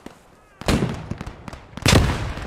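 Two loud gunshot bursts ring out in the game Post Scriptum, with scattered smaller pops and clicks between them.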